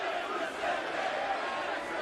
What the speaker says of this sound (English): you can hear the capacity crowd here